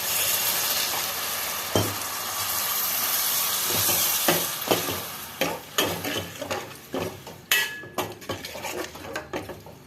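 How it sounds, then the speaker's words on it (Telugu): Water poured into a hot pan of onion, tomato and egg curry, raising a loud sizzling hiss that fades as a spoon stirs and scrapes against the pan in repeated knocks, with no talking. "ఇప్పుడు కొద్దిగా వాటర్ యాడ్ చేద్దాం"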